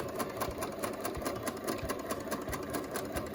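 A sewing machine stitches a fabric mask in a quick, even, rapid clatter of needle strokes, close and steady with no pauses.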